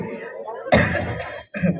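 A short throat-clearing cough bursts out amid a brief stretch of talking, close and fairly loud.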